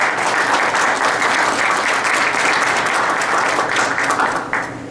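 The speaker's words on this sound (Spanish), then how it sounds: "Bienvenido, un aplauso para él." Loud, sustained audience applause at a forum on indigenous shelters in the Sierra Tarahumara, welcoming a professor, thick and continuous before tapering off at the end.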